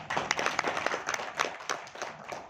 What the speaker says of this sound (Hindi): तालियां मैम के लिए